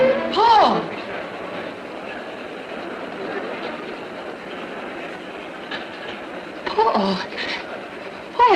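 A train rolls by in a 1953 film scene, a steady rumbling clatter running throughout, with voices speaking briefly at the start and near the end.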